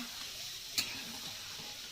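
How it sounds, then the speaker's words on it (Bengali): Gentle continuous sizzling from a pan of fish and giant taro curry in gravy with a faint scrape of stirring, quiet and steady. "ঝোল দিয়ে ভালো করে একটু নেড়ে চেড়ে নিচ্ছি"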